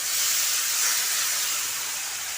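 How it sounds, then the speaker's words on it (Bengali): Water poured into frying spice paste in a pan, giving a loud, steady, broad sizzling hiss that holds for a couple of seconds with no voice. "এখন আমি পরিমাণ মতো জল দিয়ে দেব।"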